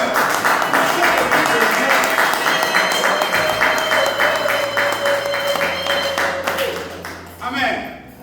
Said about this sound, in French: il faut donner pas des applaudissements, des acclamations, des clameurs